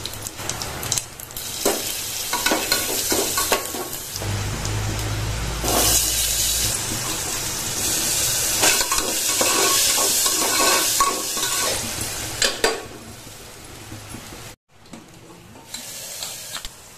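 Cumin seeds and asafoetida crackle and sizzle in a little hot oil, with steady frying hiss, stirring scrapes and a loud burst near the middle, then a brief pause before the sizzle returns; no talking.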